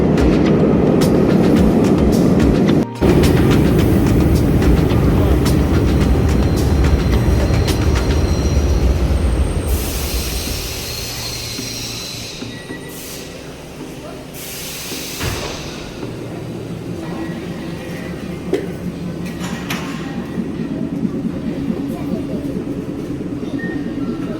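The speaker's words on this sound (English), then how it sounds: "So it's back on the trains we go and the metro line is there." A Milan metro train rumbles steadily from inside the carriage, loud and continuous, with rattles and a sharp hiss partway through. Voices are faintly audible beneath.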